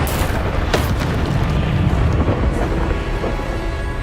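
A Bombarda explosion spell from Hogwarts Legacy bursts into a loud, sustained booming rumble with a sharp crack near the start, then trails off as a rolling roar.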